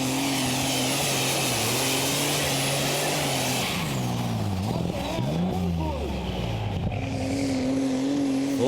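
A tractor engine roars loudly during a tractor pulling run at the Eurocup in Brande, Denmark, a sustained powerful drone that shifts pitch mid-run, with a commentator speaking over it.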